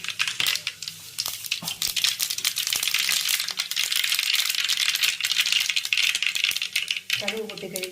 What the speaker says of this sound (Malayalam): കടുക് പൊട്ടിക്കഴിഞ്ഞ് ഇനി ഉള്ളി ഇടുക.